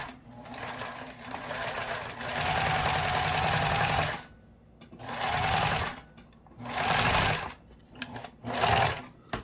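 A household sewing machine runs in loud bursts of rapid stitching that stop and start, with short pauses between runs and no talk over it.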